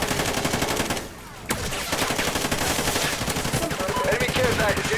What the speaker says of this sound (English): the guy shot me through the flipping metal box